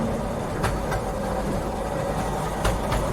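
A five-coach Alexandria-to-Damietta passenger train pulls into a station platform with a steady, loud rumble and a couple of sharp metallic clacks from the wheels.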